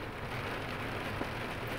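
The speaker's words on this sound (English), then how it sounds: "I can't get over how much this rain is really coming down." Heavy wind-driven rain pours down steadily and loudly, a dense unbroken wash of drops with no talk over it.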